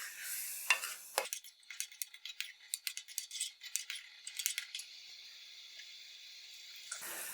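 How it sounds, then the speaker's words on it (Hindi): Ground tomatoes and masala frying in a pan, a soft hiss under a run of quick scraping and stirring strokes that grow busy in the middle and then settle into a steady sizzle. "इसको अच्छे से मिक्स कर देंगे और इसकी खूब भुनाई करेंगे"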